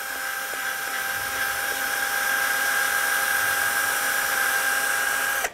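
A bore brush spins inside the slider bore of a front brake caliper on a 1998-2011 Ford Ranger, giving a steady high whirring whine close by for several seconds before stopping abruptly.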